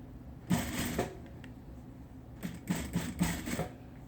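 A home sewing machine stitching the top seam of a double-lined homemade protective mask, in short bursts of rapid needle clatter separated by pauses, close and fairly quiet.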